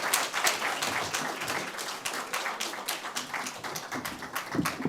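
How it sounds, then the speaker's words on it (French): Dense audience applause and clapping at a healthcare conference panel, a steady, crowded patter of many hands lasting throughout, fairly close and continuous with no speech over it. "Big round of applause for."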